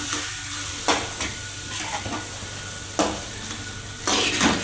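A spoon stirs dudhi halwa in a pan over low heat, a soft sizzle running underneath as scraping strokes come every second or so, close and moderately loud.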